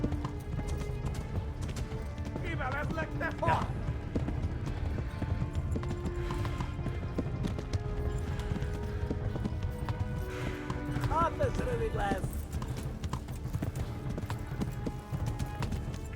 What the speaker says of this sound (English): Looks like the horse keeps stopping.